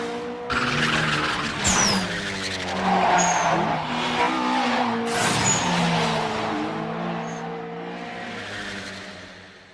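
Two Toyota 86 cars race on a mountain road, one of them turbocharged, with loud revving engines and repeated screeching tire skids as they drift through corners, continuous and close throughout, with no voices.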